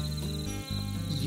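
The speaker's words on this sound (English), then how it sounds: "I hear crickets." Crickets chirp in a steady high-pitched trill, close and continuous over a soft low background hum.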